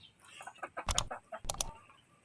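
Young chickens cluck in a coop in short, close bursts of squawky calls, some louder and sharper than others, with quiet gaps between them.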